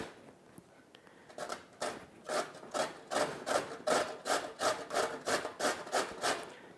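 A carrot is grated by hand on a kitchen grater, a quiet start followed by a run of about a dozen rhythmic rasping strokes, each a short scraping swell, close and clear with no talking.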